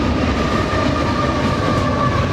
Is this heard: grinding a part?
no